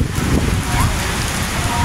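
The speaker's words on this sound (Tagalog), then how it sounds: "May kasamang malakas na ulan dito guys sa may BGC." Heavy rain pours in a dense, steady hiss in BGC, Taguig, Philippines, close and loud throughout.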